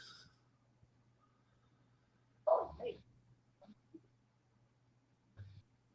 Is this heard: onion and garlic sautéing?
no